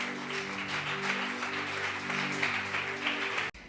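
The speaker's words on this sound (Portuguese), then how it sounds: "Aplauda o Senhor em nome de Cristo." Applause rises from a church congregation at the close of a worship service, steady clapping over sustained organ or keyboard chords, then cutting off abruptly near the end.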